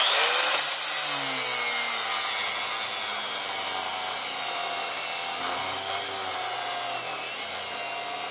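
A DeWalt angle grinder runs continuously with a high, shrill whine and a broad grinding hiss, its pitch slowly shifting, close and loud, with no talk.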